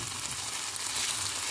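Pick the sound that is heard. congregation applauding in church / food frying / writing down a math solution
food frying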